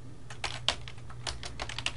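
Quick keystrokes on a computer keyboard as a command is entered, a run of light, close clicks with a few sharper taps over a quiet hum.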